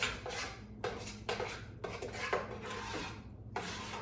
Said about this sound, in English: we are going to mix this all in until it melts